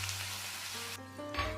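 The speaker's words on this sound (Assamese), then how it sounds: "পিঁয়াজখিনি অকণমান ৰঙচুৱা হোৱালৈকে এতিয়া মই ভাজি ল'ম।" Finely chopped onion fries in hot oil with cumin and cardamom for a jackfruit curry, giving a soft, steady, close sizzle. A faint tonal hum rises near the end.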